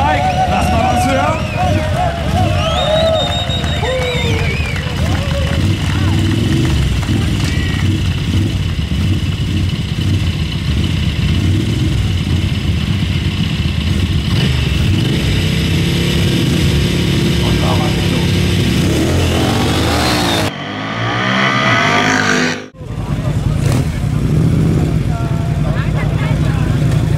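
A Ducati motorcycle at a 1/8-mile cafe racer sprint race runs loud and steady with revving through a crowd and announcers talking over it, then cuts out briefly near the end before picking up again.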